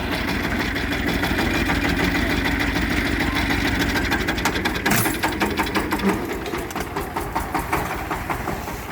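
A mini tractor engine labors while skidding a log on a three-point hitch attachment, a steady close mid-pitched engine drone with a rhythmic knocking pulse that grows more pronounced toward the end.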